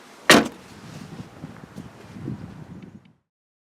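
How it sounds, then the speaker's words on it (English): Rear metal door of a 2018 Jeep Wrangler JL shutting with one sharp close nearby, followed by a few seconds of soft rattling and settling noise that fades out. "and then you can close the metal door last."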